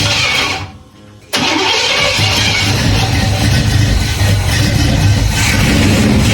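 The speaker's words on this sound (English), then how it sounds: "fire this thing up and give it some fuel" A 1980 Pontiac Trans Am under restoration cranks briefly, pauses, then catches and runs loud and rough up close, holding a steady idle with slight revving for the rest of the stretch, no voices.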